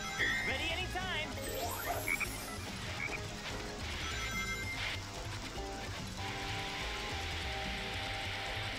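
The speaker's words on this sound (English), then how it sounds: "There's that black frog again!" Croaking of a black frog enemy in the swamp level of the Sonic Heroes video game, dense rattling croaks running continuously through busy game music and effects, fairly loud and steady.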